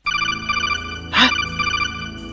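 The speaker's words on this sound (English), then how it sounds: "A call is coming to our comlinks." An incoming call rings on a comlink in a Sonic VR adventure, a steady electronic ringtone pattern of repeated chirps that continues without a break, with a brief brighter swell partway through.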